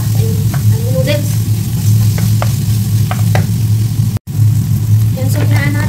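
Beef pasta sauce sizzles and bubbles in a pan, a steady loud frying hiss with occasional stirring scrapes and clinks, and someone talks over the cooking.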